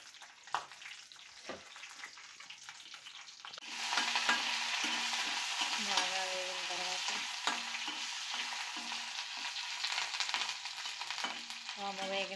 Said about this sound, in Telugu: వామ్ వేసుకుందామండి. వామ్ వేగిన తర్వాత కొంచెం పచ్చిమిర్చి కూడా వేసుకుందాం.